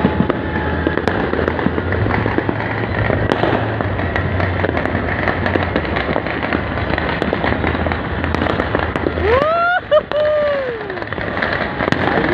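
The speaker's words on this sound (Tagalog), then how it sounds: "At maraming lumilipad na paputok." A New Year fireworks display from 2020 into 2021 crackles densely and loudly throughout, with rapid pops and bursts, then rising whistling rockets shriek near the end.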